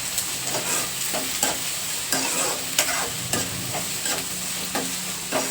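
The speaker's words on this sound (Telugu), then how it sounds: "ఇప్పుడు మనం ముందుగా వేసుకున్న ఉల్లిపాయలు కూడా కలిపేసి వీటితోనే వేయించేసుకుందాం" Onions and green chillies fry in a pan, a steady close sizzle broken by regular scraping stirs, with no talk.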